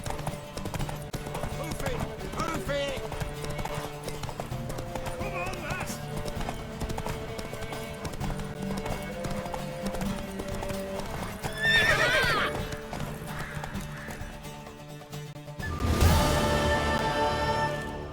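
Hooves clip-clop steadily under ongoing talk and background music, then a mare whinnies loudly near the end, in the video game The Witcher 3: Wild Hunt.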